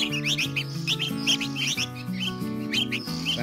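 Red-whiskered bulbuls kept as cage birds give repeated bright chirps in quick bursts over a steady lower tonal hum, fairly close and clear.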